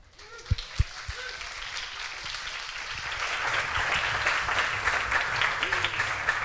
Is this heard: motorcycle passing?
no